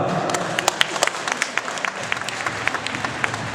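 A crowd applauds at the opening of a tournament, with scattered, irregular clapping, steady and moderately loud from start to finish.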